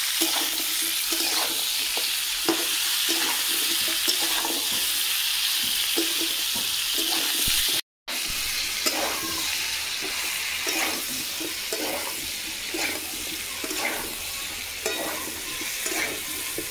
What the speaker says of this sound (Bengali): দেখুন আলু আর কুমড়ো সোয়াবিন ভাজা হয়ে গেছে